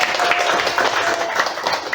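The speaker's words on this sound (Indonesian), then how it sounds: "Tepuk tangannya mana?" Students in a classroom break into applause, a dense, fairly loud burst of clapping throughout with a faint murmur of voices mixed in.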